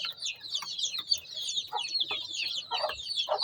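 A first-time mother hen clucks softly while her small chicks peep constantly in high, busy chirps, close and fairly loud, the chick calls dominating throughout.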